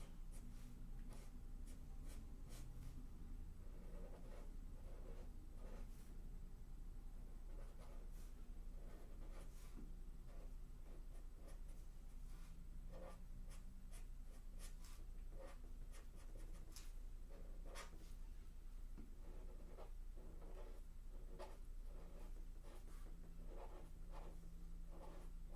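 A 1.5 mm chisel-nib ink pen scratches across paper in short irregular strokes, faint and close, over a steady low background hum.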